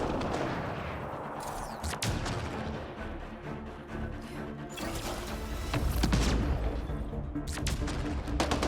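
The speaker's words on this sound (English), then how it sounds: "Switching to high-power sniper rifle." A high-power sniper rifle fired in the video game Mass Effect: Andromeda, several sharp, heavy shots cracking out in quick succession over rumbling in-game action.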